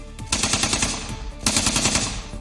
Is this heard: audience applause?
no